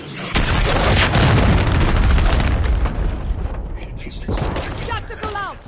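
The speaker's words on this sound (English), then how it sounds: "Missile approaching target." Missile explosion in Call of Duty: Modern Warfare 3, a loud, sustained booming blast rumbling for several seconds before fading, followed by chirping game effects.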